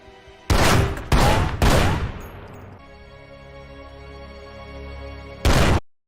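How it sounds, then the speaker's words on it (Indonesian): Four sharp, loud pistol gunshots ring out in a film scene, three fired in quick succession near the start with ringing decay and one more after a pause, over a low, quiet background. "Dia pun akhirnya ditembak dengan pistol miliknya."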